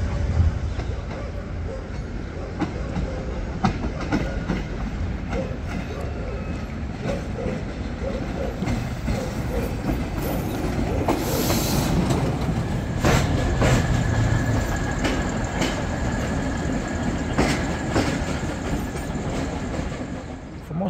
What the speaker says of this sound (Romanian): trenul de la Nehoiașu.